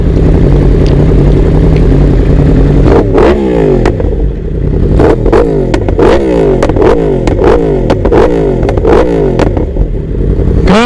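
A tuned Suzuki GSXR1000 with a full exhaust revs repeatedly, each rise in pitch cut off sharply, in a fast rhythmic series over a constant loud engine drone recorded close up while riding.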